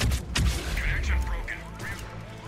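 A grenade explosion and gunfire in Mass Effect 3 multiplayer, with sharp bursts and a low boom near the start, followed by scattered shots and electronic effects, partly under a talking voice.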